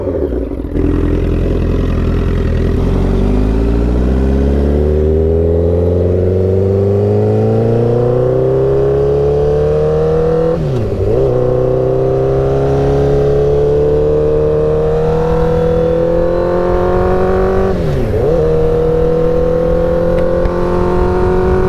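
A rebuilt 2009 Honda CBR1000RR sportbike, warmed up and out on a test ride, roars loudly and continuously, its engine pitch climbing through revs with two quick dips at gear changes.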